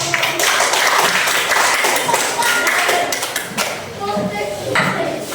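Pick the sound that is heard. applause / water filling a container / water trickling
applause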